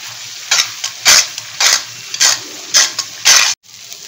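Garlic, ginger, Kashmiri chili and tomato masala for pabda fish frying in a pan, with loud rhythmic scraping stirs roughly every half second over a low sizzle, close up.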